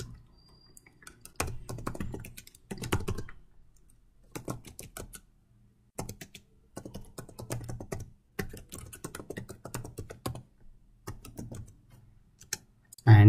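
Typing on a computer keyboard while entering PowerShell commands, heard as close bursts of quick key clicks in short runs separated by pauses, with a louder thump at the very end.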